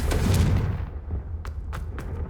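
A Confringo fire spell goes off in Hogwarts Legacy with a heavy booming blast at the start that rumbles away, followed by a few sharper crackling hits.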